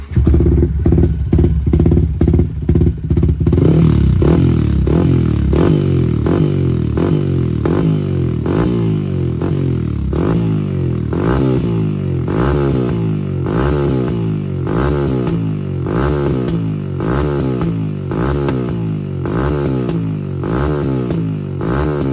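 A Yamaha Lagenda 110 motorcycle fitted with an Espada exhaust revs hard on a dyno, a loud, continuous engine roar rising and falling in repeated rev cycles, close up with no talking.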